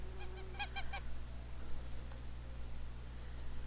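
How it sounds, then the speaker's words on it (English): Geese give a quick burst of several nasal honks close by, then fall silent over a steady low hum. "My geese had babies."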